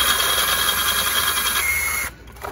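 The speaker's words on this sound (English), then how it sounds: "So let's drill this out a little bit more" A power drill bores a hole for a rim lock on a 125cc or 150cc Evoque motorcycle, a loud, steady high-pitched whine with grinding texture that runs continuously and then stops, leaving brief quieter noise.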